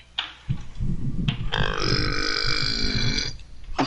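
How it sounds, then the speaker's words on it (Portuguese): A single long, loud, guttural burp close to the microphone, rumbling for about two seconds after a couple of short throaty sounds. "se eu abrisse a boca pra soltar esse arroto, vocês ouvem um bagulho absurdo"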